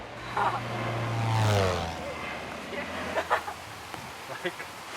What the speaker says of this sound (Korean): 치앙마이는 비행기가 가까운 데서 뜨나 봐